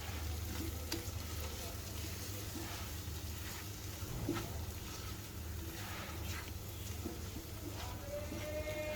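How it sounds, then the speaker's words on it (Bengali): Salt, chili powder and turmeric fry in oil in a pan for achari chicken, giving a soft continuous sizzle with light stirring throughout. "মশলাটা খুব ভালোভাবে ভেজে নিতে হবে"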